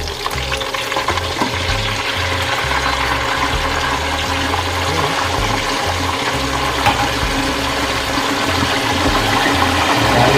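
Water hits hot oil around pork for crispy pata, setting off a loud, steady, crackling sizzle and bubbling that keeps going the whole time, close up with no talk.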